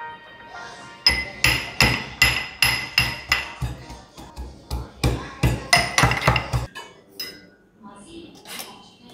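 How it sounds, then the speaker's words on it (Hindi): Garlic and ginger are pounded in a kitchen while making dhaba-style dal fry, giving a close, rhythmic run of a dozen or more sharp metallic thuds that fade to a few scattered knocks. "तब तक मैं लहसुन कूट लेती हूँ।"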